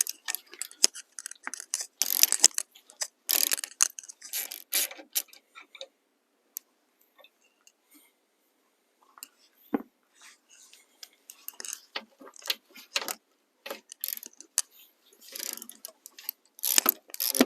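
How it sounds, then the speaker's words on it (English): A ratchet with a 15mm socket loosening the front sway bar mount bolts on a 1997-2006 Jeep Wrangler TJ: quick, faint ticking clicks in bursts, pausing near silence midway before clicking resumes. "take the two front sway bar mount bolts loose. It's going to require a 15mm socket."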